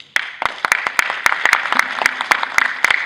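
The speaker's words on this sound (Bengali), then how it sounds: "এই হাততালিটা আমি উৎসর্গ করলাম ওনাকে।" An audience at a national theatre festival applauds, a loud, close burst of uneven, fairly sparse claps that starts abruptly and continues steadily for about three seconds.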